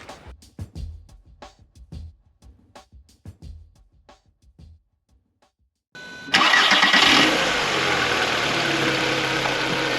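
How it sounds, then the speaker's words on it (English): A VW MK4 Golf with its accessory belt removed cranks and fires up after a few sparse clicks, then runs loud and steady at close range. "I'm going to remove the accessory belt, then start the car back up and see if the sound goes away"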